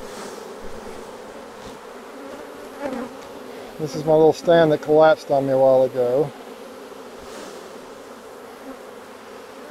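A honeybee swarm, shaken into a hive box, keeps up a steady buzzing hum throughout while someone talks over it.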